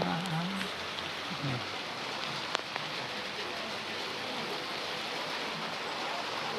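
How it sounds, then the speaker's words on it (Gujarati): Rain begins falling outdoors as a soft, steady hiss of drops on surfaces, fairly faint and even throughout, with a brief voice at the start and a sharp tap partway through. "જો આવા વાતાવરણમાં વરસાદ આવવા માંડ્યો."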